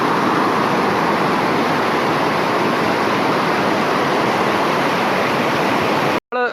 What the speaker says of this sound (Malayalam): ഇതാണ് നമ്മുടെ ഒരക്കമ്പാറ വെള്ളച്ചാട്ടം എങ്ങനെയുണ്ട് ഇതുണ്ട് ഈ വെള്ളം ഇങ്ങനെ താഴേക്ക് പോയി